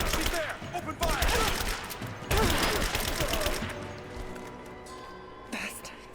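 Bursts of gunfire crackle through a firefight in the video game Rise of the Tomb Raider, with rapid volleys and shouting voices over a tense mix that fades toward the end.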